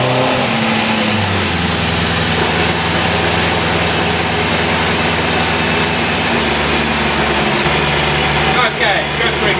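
A BMW E30 M3 fitted with an S65 engine and a Drenth sequential gearbox runs in a workshop, its engine note shifting as it revs, loud and close throughout.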